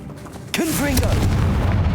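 In Hogwarts Legacy, a Confringo blasting curse erupts in a sudden loud boom that rolls into a sustained fiery roar. A voice calls out the spell over the blast.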